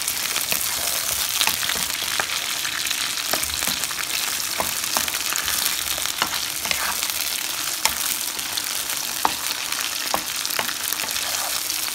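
Potato pieces fry and get stirred in a hot pan for a vegetable biryani, with a steady dense sizzle running throughout and scattered short scraping clicks from the stirring, close and fairly loud, no voices.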